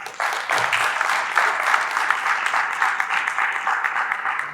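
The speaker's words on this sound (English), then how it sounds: "please give a warm applause as we make welcome Mr." An audience at a corporate product launch applauds steadily to welcome a guest speaker, a dense, even wash of many hands clapping that holds at a constant level throughout.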